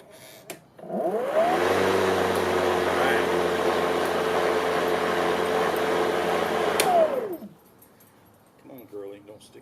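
Cordless Craftsman V20 self-propelled lawn mower with battery power, spinning up and running steadily for about six seconds with a loud whine and harmonic hum, then winding down; a dog whimpers and people speak briefly afterward.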